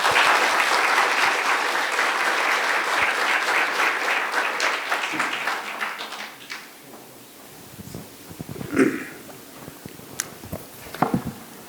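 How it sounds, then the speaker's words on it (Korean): An audience at a symposium lecture gives full, steady applause to welcome the lecturer, which fades out halfway through, leaving a quiet room with scattered shuffles and small knocks. "박수."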